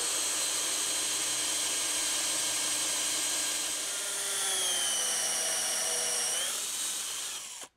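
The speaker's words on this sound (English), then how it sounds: "all these teeth are having to chew through a huge amount of wood" A saw blade cuts steadily through pine wood, a sustained high whining buzz that shifts slightly in pitch midway, then stops abruptly at the end.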